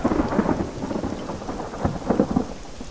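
Thunder rumbles through steady rain during a lightning storm in the Arma 3 video game, a dense, continuous low roar with a few heavier swells and no voices.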